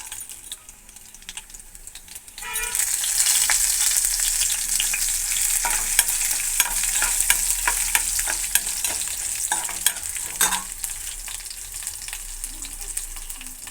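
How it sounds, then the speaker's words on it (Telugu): Dried red chillies and urad dal frying in hot oil for a Telugu pumpkin curry tempering, a steady loud sizzle that starts abruptly after a quiet moment and carries light stirring clicks. "ఇప్పుడు ఎండుమిర్చి కూడా వేసేసుకోవాలి. ఇప్పుడు మినపప్పు కూడా వేసుకోవాలి."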